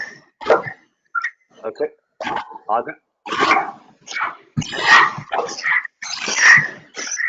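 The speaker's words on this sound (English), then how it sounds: "you've got a very noisy dog there" A noisy dog barks and yips repeatedly in the background of a webinar call, loud, close and in irregular bursts, with a brief bit of speech mixed in.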